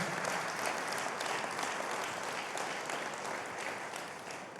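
A church congregation applauds during a pastor's sermon with a steady, moderately loud wash of many hands clapping that eases slightly toward the end.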